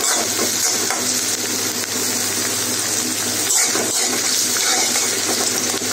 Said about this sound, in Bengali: পেঁয়াজ কুচিটাকে হালকা ব্রাউন করে আমি ভেজে নিব